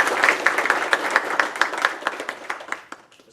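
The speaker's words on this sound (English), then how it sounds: "I'd like to just give everybody a big round of applause because of all the hard work they did." Applause at a police awards ceremony, a smaller group clapping with distinct individual claps in a fairly regular rhythm, tapering off to a few last claps.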